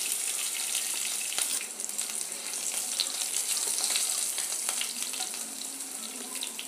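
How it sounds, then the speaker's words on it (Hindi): Chopped green chillies and asafoetida sizzle and crackle in hot oil with ajwain for a masaledar arbi dish. The frying hiss is steady and close, with small pops scattered through it and no talking. "इसी के साथ डालेंगे हरी मिर्च, जो मैंने 3 हरी मिर्च को काट कर रखा है, और अब डालेंगे हींग"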